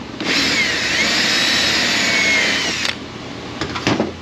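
Power drill boring into a plastic HVAC box from a GMT800 Silverado, Yukon or Escalade interior: a close, steady whining burst lasting a few seconds, then stopping, followed by a couple of short, sharp clicks and knocks.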